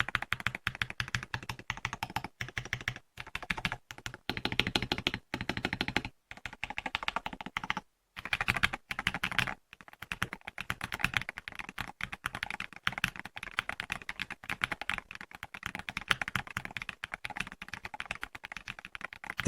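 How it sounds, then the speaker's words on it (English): Rapid, crisp typing on a mechanical computer keyboard, a dense run of close, clicky keystrokes with a few brief pauses between bursts, no voices. "Let's briefly listen to the typing sound when it appears."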